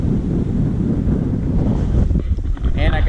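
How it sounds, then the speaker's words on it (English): Strong wind buffets the microphone outdoors in a constant loud low rumble that swells and gusts for a few seconds, with faint sounds of movement toward the end. "It's so windy."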